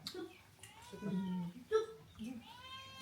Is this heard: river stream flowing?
no